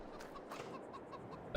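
Chickens clucking in Farming Simulator 22 on a North Frisian marsh farm, a soft flurry of short clucks and bird calls over a low ambient bed, ending in a brief louder burst.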